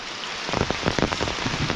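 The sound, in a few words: heavy rain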